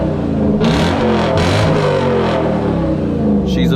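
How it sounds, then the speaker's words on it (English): Straight-piped Lexus SC430 with only an X-pipe revving in power mode, a loud, raw engine roar swelling through several throttle blips over about four seconds, close to the microphone with no talking. "Let's give this thing a rev."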